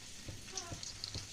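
Bhola fish frying in oil over a lowered gas flame gives a soft, continuous sizzle with faint pops and crackles, fairly quiet and close, with no talking over it.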